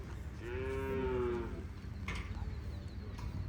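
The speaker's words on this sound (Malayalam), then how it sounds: "കാങ്കയം കാളകളെ വിൽക്കുന്ന അല്ലെങ്കിൽ പശുക്കളെ വിൽക്കുന്ന ഏക ചന്ത കൂടിയാണിത്." A Kangayam cow at the Kangayam cattle market gives one long, close moo, followed by quieter market rustle and faint knocks.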